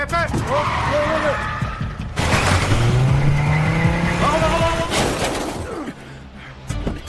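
Car chase in an action film, with tires skidding and squealing in a long screech, engines roaring, and crashing impacts around it, all loud and close with no talking.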